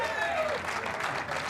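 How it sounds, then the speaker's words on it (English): A tennis crowd at a women's singles match applauding: a dense wash of clapping that swells and holds, with a commentator's voice briefly over the start. "Sounds like the crowd trying to get behind Leah now as well."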